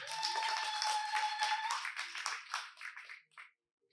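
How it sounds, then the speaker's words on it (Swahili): A church congregation claps for Jesus in a burst of dense, sustained applause that holds steady for about three seconds, then thins into scattered claps and stops. "Mchapie Yesu makofi"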